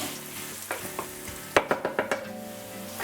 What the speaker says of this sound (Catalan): hi podem afegir la ceba perquè vagi fregint tot junt